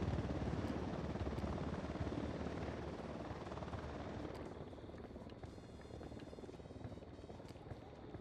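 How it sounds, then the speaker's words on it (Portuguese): A helicopter in the video game Ghost Recon Wildlands gives off a loud, steady rotor whir and engine roar that fades slightly toward the end. "Helicóptero, no chão. Helicóptero, abaixe-se."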